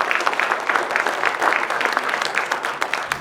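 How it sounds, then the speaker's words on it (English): Volunteers and residents at a public engagement forum in Valemount, BC applaud steadily, a dense even rattle of many hands that holds for several seconds without a break. "you should all give yourselves a big round of applause right now"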